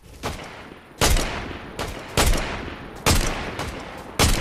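Bursts of automatic gunfire in the Fortnite video game, four loud volleys roughly a second apart, each sharp onset trailing into a rattling decay, with no talking.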